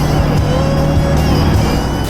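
An EF Civic hatchback with offset wheels and a mud-covered front pulls out of a driveway, its engine a steady close rumble with a rising tone held throughout, no talking over it.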